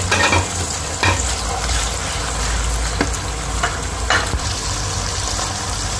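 Minced meat sizzles and fries in a hot pan with steady crackling, broken by a few scrapes and stirs of a spoon close by.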